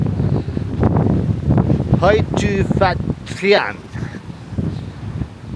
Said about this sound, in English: That wind is still strong.